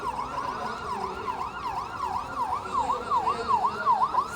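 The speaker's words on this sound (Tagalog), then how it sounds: "Wala, may ambulansya." An ambulance siren wails in a repeating up-and-down pattern, growing slightly louder, with faint traffic rumble underneath.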